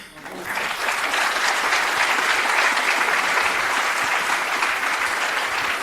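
Sustained audience applause at a conference in Tours on gender questions, a dense wash of clapping that swells in after a brief quiet start and holds steady and loud throughout.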